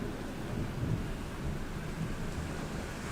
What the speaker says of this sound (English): we don't typically get these kind of thunderstorms here